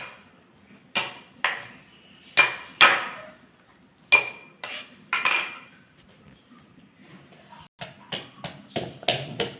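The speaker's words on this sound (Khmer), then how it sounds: "ចាប់ផ្ដើមបុកគ្រឿង យើងដាក់អីមានតែបេះខ្ទឹមម្ទេសដាក់ទៅបងប្អូន" Garlic and chili are pounded into spice paste in a mortar, sharp irregular thuds and clinks of the pestle, close and fairly loud with pauses between strikes, over a faint low background hum.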